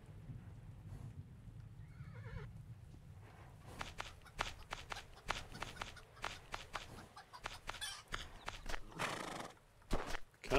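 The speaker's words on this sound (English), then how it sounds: "at least I can lead the horse back to the barn" A horse in the farming video game Farmer's Life whinnies, then its hooves clip-clop in a quick irregular run of steps, with soft shuffling mixed in, moderately close and without talk.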